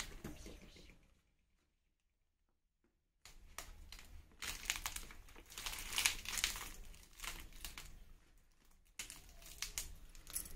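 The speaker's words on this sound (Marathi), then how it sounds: "त्याला आपण पूर्ण पॅक करणार आहोत बघा" Turmeric leaves crinkle and crumple up close as they are folded and packed around fish for a steamed motala, in bursts of rustling after a brief silent gap, with no talk.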